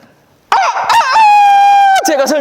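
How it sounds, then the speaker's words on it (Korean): A rooster crows once, loud and close, its long sustained call rising, holding steady and then dropping at the end, with a brief faint lead-in before it. "닭이 우는 순간"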